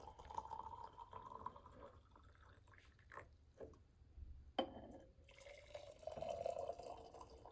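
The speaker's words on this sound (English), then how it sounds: "And I'm going to add water to both." Water is poured into two cups, one holding sand and one holding salt, giving soft trickling and dripping with a few small splashes, faint and close by.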